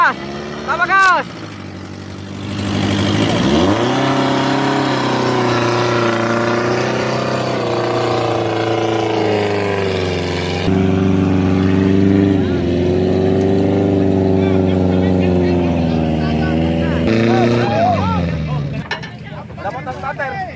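An off-road vehicle engine revs hard and steadily while driving through a rubber forest, rising and holding with strong harmonic drone, close and loud, with brief dips near the start and end.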